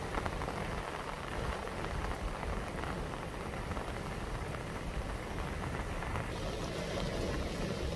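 Steady rain falls outdoors at a seaside park, a dense even hiss of drops striking surfaces all around, with no speech heard.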